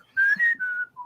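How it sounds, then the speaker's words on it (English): A person gives a single signal whistle, a clear two-part rising then falling tone followed by a short lower note, close and alone. "Can I give like a signal whistle to kind of alert him to come this way?"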